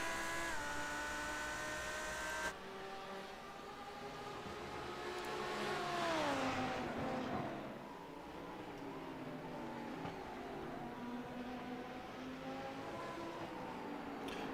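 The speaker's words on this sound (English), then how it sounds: "there's just a whole mess of cars here" GT1 and GT3 race cars howl around the Mid Ohio circuit in a close pack, engine notes rising and falling as they pass near, steady and loud throughout.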